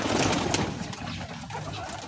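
Pigeons coo and shuffle close by as hungry birds enter a trap, soft cooing and fluttering over a brief stretch.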